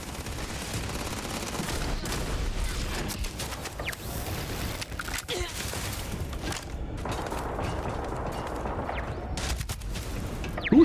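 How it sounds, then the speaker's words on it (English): Sustained bursts of gunfire in Starfield, dense overlapping shots and rapid automatic fire running continuously at steady loudness with no talk over it. "Who is shooting me?"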